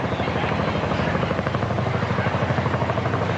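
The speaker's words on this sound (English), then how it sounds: "as we got that helicopter coming in." Helicopter passing low over a minor-league baseball game, its steady rhythmic rotor thumping loud and continuous throughout.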